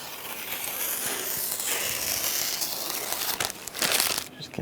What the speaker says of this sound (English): There's just a protective layer on here. You can peel that off.